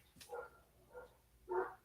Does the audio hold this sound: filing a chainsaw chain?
no